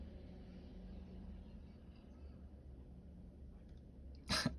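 Cars pass outside a window, heard from indoors in a game room as a faint, continuous low rumble, with a brief sharper noise close by near the end.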